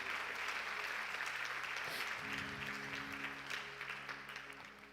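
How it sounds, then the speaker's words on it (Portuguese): A church congregation claps steadily in sustained applause, a dense, fairly distant roar of hands with faint tonal sounds underneath, gradually easing off. "Você pode aplaudir bem forte o Senhor?"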